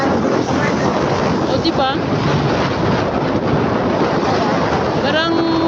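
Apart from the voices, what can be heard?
wind during a road trip ride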